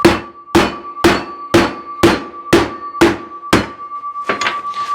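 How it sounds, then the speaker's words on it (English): A hammer strikes sheet metal eight times in an even rhythm, each blow a loud ringing clang with a metallic tone, while the metal is stretched before shaping on an English wheel; a few softer, quicker taps follow at the end. "we want to kind of stretch this metal out a little bit. So we're going to do that by kind of whacking it."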